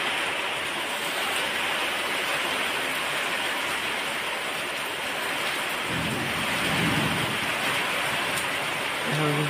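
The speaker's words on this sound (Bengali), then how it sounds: "এখন দেখেন অন্ধকার হয়ে গেছে এবং বজ্রপাত হচ্ছে।" A storm over Pirojpur district brings a dense, constant roar of heavy rain, with deep thunder from a nearby strike swelling loudly partway through and rumbling beneath the downpour.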